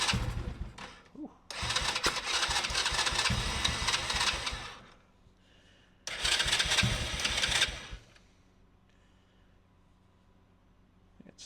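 A small engine with the choke on starts and runs in two loud, rough bursts of a couple of seconds each. Each burst drops back to quiet, and a faint murmur sits in the gaps between them.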